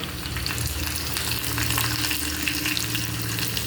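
Curry leaves and red chilies with ginger-garlic paste frying in hot oil for dal tadka, a steady close sizzle and crackle with faint stirring, no voices.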